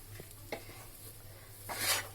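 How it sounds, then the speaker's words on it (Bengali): Pea filling for chops being stirred in a wok, soft spoon scrapes and a few light taps over a faint low sizzle, with a brief louder frying hiss near the end, quiet and close. "এইরকম নাড়তে নাড়তে কড়া থেকে ছেড়ে গেলে বুঝবেন যে পুরটা ভালোভাবে রেডি হয়ে গেছে"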